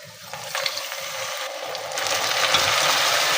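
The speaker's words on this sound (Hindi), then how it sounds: "अब इसको थोड़ा सा पानी डाल के ना इसकी भुनाई करनी है।" Keema, minced meat, fries in a pan with a little added water, giving a steady sizzling hiss that grows louder toward the end.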